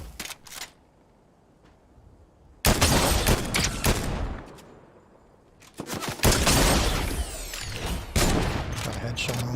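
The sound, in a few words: gunfire in Fortnite video game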